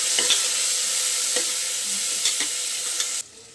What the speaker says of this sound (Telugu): ఆనియన్స్ బాగా ఫ్రై చేసుకోవాలి